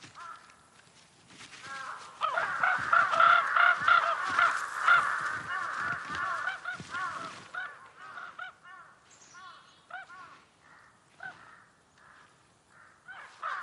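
Several crows caw repeatedly in the wild of the Russian taiga, harsh calls overlapping loudly and then thinning into scattered, quieter caws with no talking.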